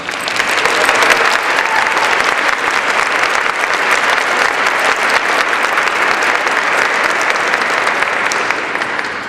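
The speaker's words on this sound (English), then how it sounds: "Please stand up so we can give you a round of applause." Steady, loud audience applause from a crowd at a committee gathering, dense clapping filling the whole stretch without pause or voices on top.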